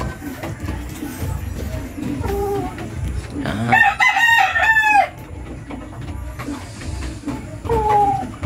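A rooster crows loudly once in a long, rising and falling call, with shorter clucks and crowing fragments before and after amid faint background noise.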